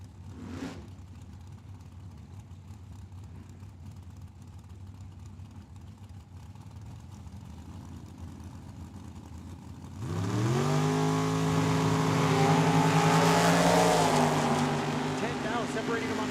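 Drag race launch at Tucson Dragway pitting a 2005 Pontiac Grand Am against a dragster: low idling rumble, then engines surge into a loud rising rev with climbing pitch, near and sustained.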